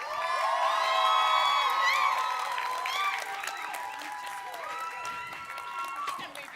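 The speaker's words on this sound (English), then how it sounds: "please give a loud applause to Michelle Bernard from LAMDA" Audience applause mixed with cheering and whoops at a virtual production industry show, fairly loud and sustained, strongest early and then easing but continuing throughout.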